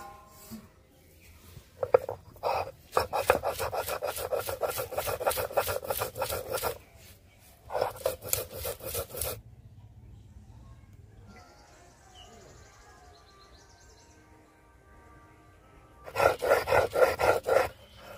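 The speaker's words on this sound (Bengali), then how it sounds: "আর এর মধ্যে দিয়ে দেবো নারকেল, দিয়ে মান কচু আর নারকেলটা একসাথে বেটে নেব।" Maan kochu (giant taro) and coconut ground together by hand on a grinding stone, heard as bursts of rapid rhythmic rasping strokes separated by pauses, close and fairly loud.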